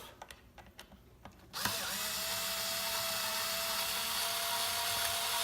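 Power tool loosening a screw on a guitar bridge, starting abruptly after some quiet handling clicks and then whirring steadily and loudly at close range until the end.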